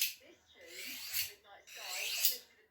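A knife blade is drawn slowly along a sharpening steel during lamb butchery, giving two long rasping, scraping strokes with a brief pause between them, close and fairly soft.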